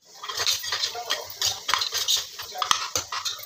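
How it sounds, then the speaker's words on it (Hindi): Kashmiri red chili being stirred into dal in a metal pot, a spoon scraping and clinking against the sides in quick, uneven strokes, close and fairly loud. "अब सबको आपस में मिक्स कर देते हैं"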